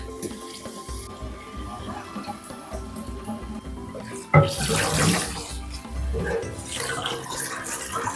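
Tap water runs into a new cooking pot as it is rinsed, a steady splashing rush that grows louder and more turbulent partway through, with no talking.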